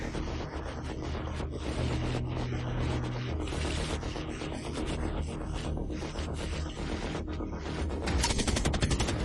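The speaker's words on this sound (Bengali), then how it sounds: "ট্রিগার টানে, গুলি আকাশ চিরে যায়।" A Soviet fighter's guns fire a dense, continuous machine-gun burst at an American P-38 in a wartime dogfight, a harsh rattling roar that holds loud and unbroken throughout.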